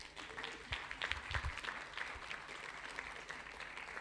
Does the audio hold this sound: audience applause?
yes